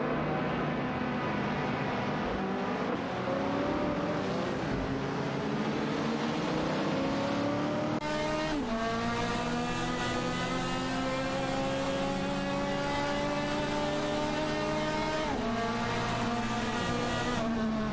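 Race cars in a racing video game, a Porsche 911 RS 2.7 and a Ford Mustang GT, engines revving high and shifting with rising and falling whines, steady and close, with a sharp change to a louder engine midway.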